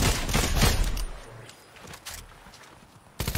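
Rapid SMG fire in a shooter video game, a dense burst at the start and another at the end, loud and close, with a quieter stretch of faint game noise between.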